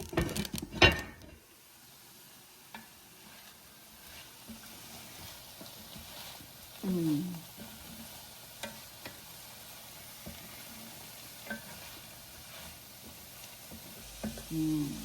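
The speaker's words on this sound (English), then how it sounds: "We're going to let that simmer for a few minutes." Mediterranean shrimp simmering in one pan, a quiet soft sizzle and bubbling with occasional stirring clinks and a few faint taps, no talk.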